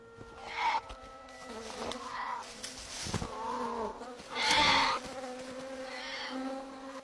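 Bees buzz in bursts around a bear cub under attack, the droning rising and fading as insects pass close, with one especially loud swell near the end.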